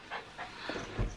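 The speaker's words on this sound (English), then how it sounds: "My little dog Roxy's a bit crazy and she likes to bark a lot." Small pet dog at home panting in quick rhythmic puffs close by, with a faint whimper and a soft low bump near the end, no talking.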